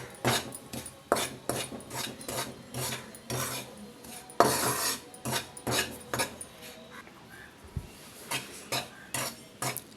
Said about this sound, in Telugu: ఒక కప్పు రాగి పిండి వేసుకుని దోరగా వేయించుకుందాం దీన్ని కూడా ఇలా కలుపుకుంటూనే వేయించుకోవాలి